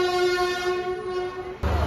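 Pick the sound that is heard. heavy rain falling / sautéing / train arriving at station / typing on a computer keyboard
train arriving at station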